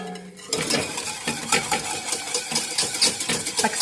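Quick repeated scraping and clinking of a utensil against a pan as egg is stirred into a hot sauce for poule au riz, a busy rhythmic stirring noise that runs steadily close-up with no talking.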